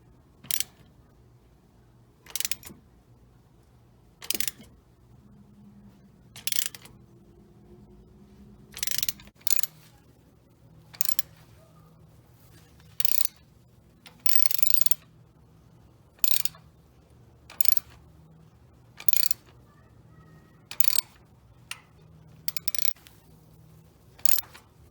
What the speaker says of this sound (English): we're gonna turn the crank 6 revolutions just to determine if they have proper alignment